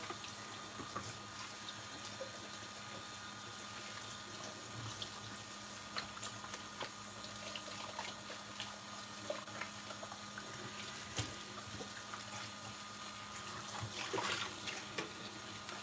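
Warm water runs steadily from a tap while a vintage Coach bag is washed, a constant close rushing hiss with occasional small splashes and handling knocks.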